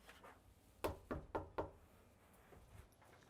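Four sharp, quick raps on the door of a residential house land in a tight cluster. The knocking is fairly close but quiet, over faint background hiss.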